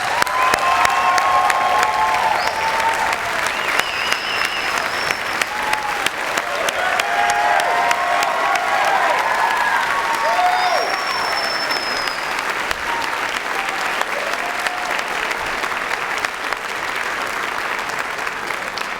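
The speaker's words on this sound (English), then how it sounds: "Let's ask the doctoral degree recipients to stand one more time for another round of applause" Loud, sustained applause rings through a hall for doctoral degree recipients standing at a December graduation hooding ceremony, an even wall of clapping with scattered cheers and voices.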